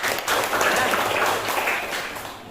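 Seventh-grade students clap together in a classroom during a guidance lesson, a brief burst of close, lively applause with no talking over it.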